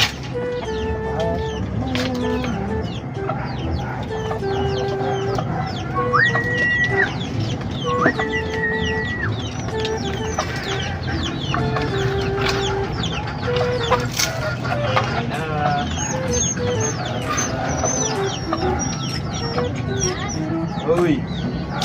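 Chickens cluck and call steadily while being fed, a dense, continuous flock chatter close by with occasional sharper squawks and other bird cries running throughout.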